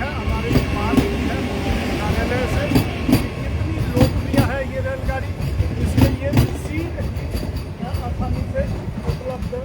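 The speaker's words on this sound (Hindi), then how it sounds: "यहाँ से रवाना हो, यानी ये रेलगाड़ी चल पड़ी है" A Vande Bharat train pulls out of Andaura station bound for Delhi, its steady near rumble carrying rhythmic wheel clacks and thumps throughout, with talk faintly mixed in.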